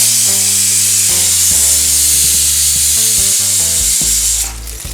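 Curry leaves and green chillies sizzle hard in hot oil for a Kerala-style green peas masala, a loud continuous crackling hiss with bursts of spatter, alone with no talk, easing slightly at the end.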